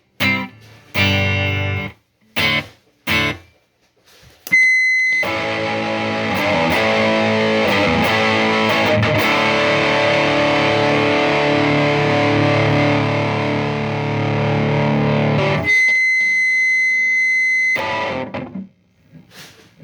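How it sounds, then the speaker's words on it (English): Electric guitar through a Peavey Triumph 60 amp with its reverb engaged and EQ set neutral, played on a humbucker: a few short strums, then a long sustained, heavily distorted chord that rings out with a lingering reverb tail before fading. "now we're going to see what this reverb is doing"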